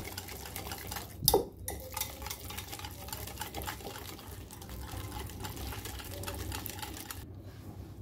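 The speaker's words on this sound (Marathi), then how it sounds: "आता हे 1 वाटी दही एका बाउलमध्ये घ्यायचं आणि छान असं फेटून घ्यायचं।" A cup of yogurt being whisked briskly in a bowl, with a continuous close rattling scrape of the utensil against the bowl and one louder knock near the start.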